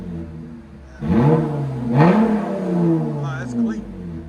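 A 2024 Chevy Camaro RS with a 3.6L V6, six-speed and Flowmaster Super 10 exhaust revs up twice in quick succession, rising and falling growls close by, with people talking over the engine.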